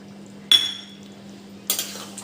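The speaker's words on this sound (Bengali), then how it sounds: "একটু নেড়ে নিচ্ছি।" Stirring shukto with milk in a cooking pot, two sharp metallic scrapes of a spoon against the pot, each clinking attack fading quickly, with a low steady hum underneath.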